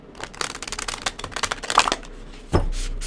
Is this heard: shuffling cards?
yes